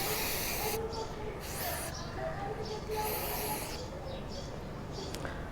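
Throttle body cleaner hisses from an aerosol can onto the mass airflow sensor of a Ford Fiesta Classic in steady, close bursts of spray.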